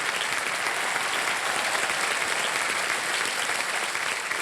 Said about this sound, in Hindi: तालियां बज जाए उनके लिए।